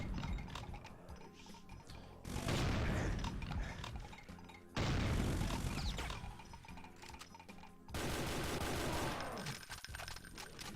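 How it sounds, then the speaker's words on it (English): A chaingunner in Doom fires its chain gun in three long sustained bursts of rapid, dense gunfire. Each burst starts abruptly and is separated by brief gaps, with mechanical clatter and no voices. "And another chain gun here"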